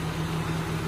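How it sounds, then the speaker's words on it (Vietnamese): A 2007 Daewoo Magnus with a 2.0 engine and automatic gearbox idling smoothly, a steady even hum close by with no speech over it. "Máy thì đang nổ đây, máy đang nổ rất êm như này"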